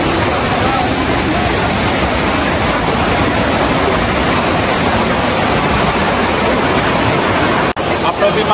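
A waterfall near a bat cave gives a loud, steady, hissing rush of falling water that fills the whole scene without a break.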